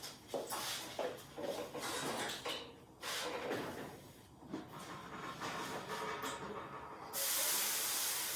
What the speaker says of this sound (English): And it's going to make some serious steam.